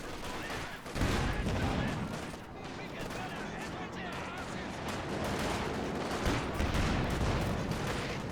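Rapid, continuous gunfire and explosive blasts from a World War II real-time strategy match against Volksgrenadier infantry, dense and steady throughout with a sharp burst near the start.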